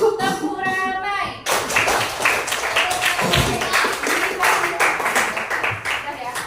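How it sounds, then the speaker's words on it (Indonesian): A class of schoolchildren breaks into loud, busy clapping all together, a dense, uneven patter of many hands that carries on steadily for several seconds after a brief spoken prompt. "Tepuk ramai."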